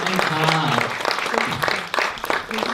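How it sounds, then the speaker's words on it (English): Audience applause after the Australian premiere of the film Ek Aasha, a full crowd clapping close by while a speaker talks over it throughout. "One more round of applause for that absolutely fabulous film and all the crew and"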